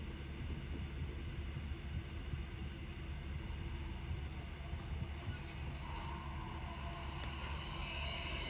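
An airplane passes overhead, its broad steady engine roar staying loud and continuous throughout, with no talk over it.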